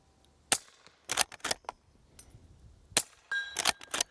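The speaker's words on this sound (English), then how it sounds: "let's just do some more shooting here" A Henry Supreme lever-action rifle fires at outdoor range targets about 75 to 100 yards out. Several sharp shots crack at uneven intervals, some in quick pairs, over a quiet background.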